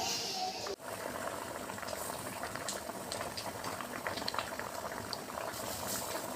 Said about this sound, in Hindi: ये देखें व्यूअर्स, इसमें कितने अच्छे से उबाल आ रहे हैं।